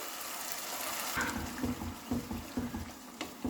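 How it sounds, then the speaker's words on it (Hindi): Water from a rinsed jar is poured into a pan of masala paste for a mutton dish, a steady faint gush followed by a series of soft splashing pulses. "जार को धो के उसका पानी हम इसमें डाल देंगे।"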